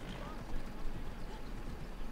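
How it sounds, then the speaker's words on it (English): Horse hooves trotting at a slow pace through a city in the video game Assassin's Creed Odyssey, a steady clip-clop rhythm under a muffled background bed. "I'm just having a nice slow trot through the city."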